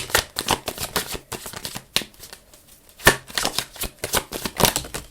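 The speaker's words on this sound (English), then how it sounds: "So let's continue with tarot and then we'll pull those message cards." Tarot cards being shuffled by hand in a series of crisp, riffling bursts with short pauses between them, close and fairly loud, with no talking.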